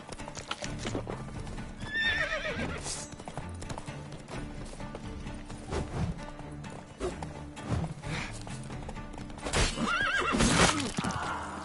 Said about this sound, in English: Horse almost killed me.